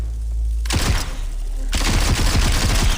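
Rapid SMG bursts in the VR shooter Into Black, a sharp impulsive rattle that kicks in suddenly and repeats in quick close-up volleys, dense and loud throughout.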